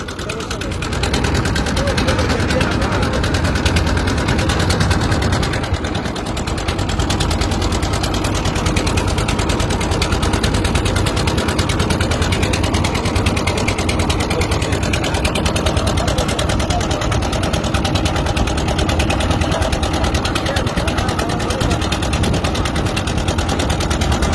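A boat engine runs on the Brahmaputra river at Kurigram, Bangladesh, with a loud, unbroken rattling drone that lasts the whole stretch while voices murmur faintly underneath.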